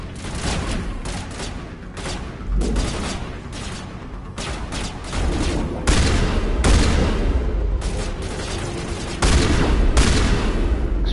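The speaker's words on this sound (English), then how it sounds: "so let's switch to my shotgun" Rapid, repeated blasts of game gunfire from a shotgun in Mass Effect Legendary Edition, loud and dense, mixed with other weapons firing and explosive thumps in a continuous battle.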